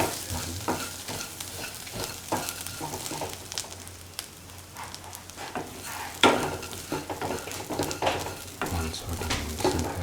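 Okra and ground cashew nut stew being stirred in a pot after salt is added, close scraping and clinking of a spoon against the pot over a soft bubbling sizzle, continuous and irregular, no talk.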